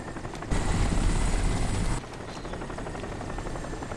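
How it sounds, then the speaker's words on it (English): Helicopter rotor and engine drone in the video game Crysis, a loud steady whirring roar that swells for about a second and a half, then holds at a slightly lower level throughout. "There's a chopper landed."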